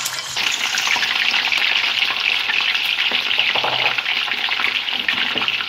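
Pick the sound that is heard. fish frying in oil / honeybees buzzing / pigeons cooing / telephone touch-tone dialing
fish frying in oil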